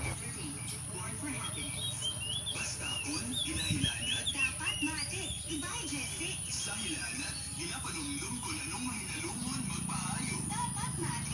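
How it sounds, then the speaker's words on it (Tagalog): Many birds chirp and trill continuously over a steady high insect whine, an open outdoor scene with no single call standing out. "Pag ganitong oras, puro ibon yung maririnig mo"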